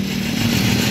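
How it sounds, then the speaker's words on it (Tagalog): A Suzuki Raider motorcycle's starter motor spins with a slipping bendix that fails to turn the engine, making a loud, steady close-up whirring drone with no breaks. "Naikot naman ang starter motor."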